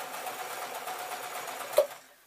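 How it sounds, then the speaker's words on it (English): A sewing machine runs a steady close whirring stitch over the lining of a tote bag, then stops with a brief clack and fades out. "I am just going to run over the stitches again, just to make sure that that hidden pocket along the lining is all nicely sewn up"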